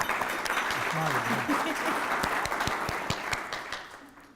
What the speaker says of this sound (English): so we'll give her a big round of applause for that